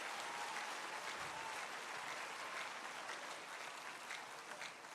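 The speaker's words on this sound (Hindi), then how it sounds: "मैं चाहूंगा एक बार जोरदार तालियां हो मेरे ऑफलाइन रबिन सर के लिए" Sustained applause fills a large university auditorium during a diamond celebration business event, a steady dense wash of many hands clapping at even loudness throughout, with no voices rising above it.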